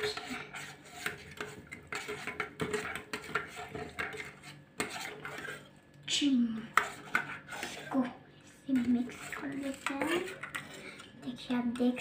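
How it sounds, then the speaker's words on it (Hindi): A spoon scrapes and clinks against a pot while stirring a melting homemade ice cream mixture, with intermittent quiet talking in between. "इसको मिक्स कर लेते हैं।"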